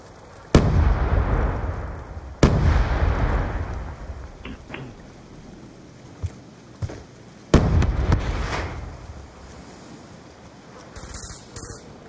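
Frag grenade explosions in a video game: three loud, broadband booms with long rumbling tails, spaced a few seconds apart, followed by a couple of faint pops and a quieter stretch.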